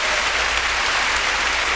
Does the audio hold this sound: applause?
yes